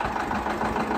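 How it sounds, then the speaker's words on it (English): A John Deere 730 two-cylinder diesel tractor with electric start and front weights idles steadily nearby, a dense noisy rumble heard alone for about a second. "This one's a diesel with an electric start, which I prefer. It's a noisy tractor, as you can hear"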